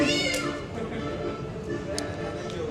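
A man imitates a cat's meow, giving a drawn-out, whiny mewing call up close that sounds convincingly feline.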